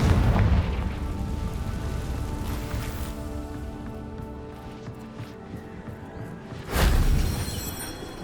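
A Confringo fire spell exploding in the Hogwarts Legacy video game, a loud low boom that rolls off into a long fading rumble, then a second heavy burst near the end.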